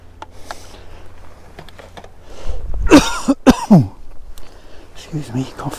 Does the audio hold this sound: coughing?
yes